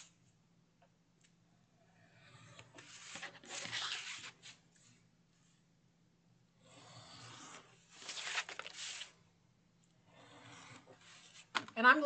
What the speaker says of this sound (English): now I'm going to take my finger blade and just cut down the middle